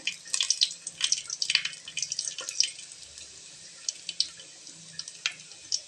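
Fennel seeds fry in hot oil for a mochai biryani, giving soft irregular crackles and tiny pops, faint and close with no voice over them.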